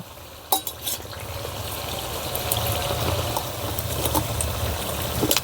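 Cauliflower fritters fry in hot oil in a steady, close crackling sizzle, with a couple of sharper pops near the start and a low bubbling rumble underneath throughout.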